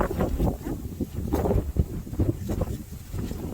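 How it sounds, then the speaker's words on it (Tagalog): Strong wind at a hilltop view deck buffets the microphone in continuous low rumbling gusts, loud and close, with no voices heard. "Lakas lang talaga ng hangin."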